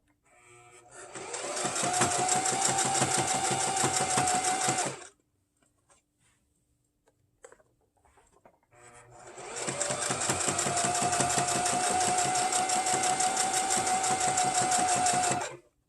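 Sewing machine stitching a beanie, two long steady bursts of rapid motor whir up close, separated by a quiet pause of a few seconds with faint handling sounds.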